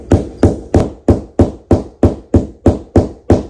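Hammer blows drive pieces of a DIY closet together, eleven sharp, evenly spaced strikes about three per second, loud and close with no talking.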